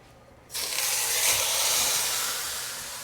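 Seasoned pot roast meat dropped into a hot Dutch oven, a sudden loud sizzle that bursts in and holds as a steady close hiss, fading only slightly.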